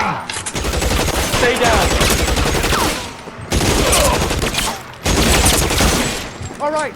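Gunfire in the video game L.A. Noire, rapid bursts of machine gun and rifle shots in loud, dense volleys broken by brief pauses, while a voice shouts a short command.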